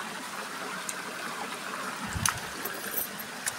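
Clear creek water flowing steadily as a soft, continuous trickle and babble, fairly faint and close, with a few small splashes and clinks near the end and no one speaking.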